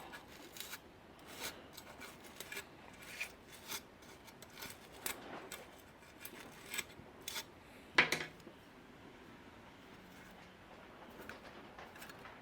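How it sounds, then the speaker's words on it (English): A small wire brush scrubs the bar of a Stihl chainsaw in short, quiet, scratchy strokes, with a brief metallic clank midway; no one speaks. "Take your little wire brush. Just clean it up like so."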